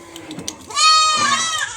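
A one-year-old castrated male goat kid lets out a single high, quavering bleat up close, preceded by faint clicks and background noise.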